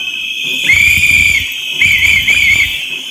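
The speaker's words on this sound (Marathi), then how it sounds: "सर्वांनी शिट्टी वाजवायची विनंती करतो" Stainless steel whistles shrill loudly from a crowd at a political rally, one long blast followed by several quick trilling bursts over a low crowd murmur.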